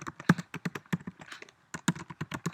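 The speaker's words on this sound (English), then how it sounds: "Let's see what happens if I'll just type in" Keys on a computer keyboard tapped in quick irregular bursts, close and fairly crisp, with a short pause midway before the typing resumes.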